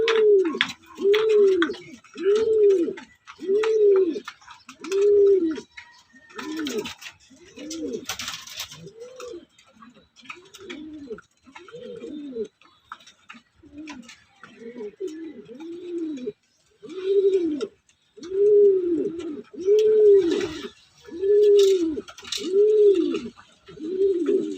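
A pigeon coos repeatedly up close, soft rolling calls in a steady rhythm with brief pauses, and faint rustling and scratches in the background.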